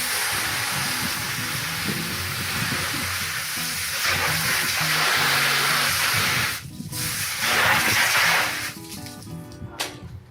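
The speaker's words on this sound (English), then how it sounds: "we would definitely recommend that you spray out any residual soil or organic matter" A steady, loud hiss of water spraying out residual soil and organic matter runs throughout, dropping briefly and surging back near the end.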